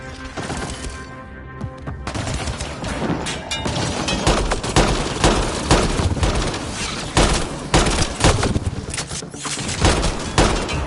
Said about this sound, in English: I'll shoot whatever needs shooting.